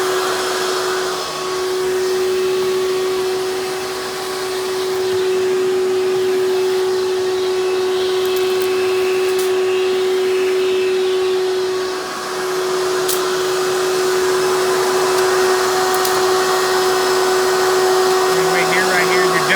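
A Hoover Turbopower 4000 (Legacy Supreme) U5101-930 upright vacuum runs steadily and loudly the whole time, a constant motor whine with a strong steady tone and airy hiss, no voices over it.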